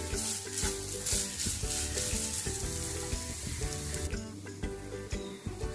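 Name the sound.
coconut frying on low flame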